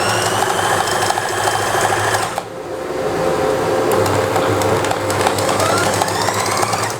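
A sewing machine hums steadily while stitching a kameez seam down to the hip line, close and continuous with a brief dip partway through and no talking.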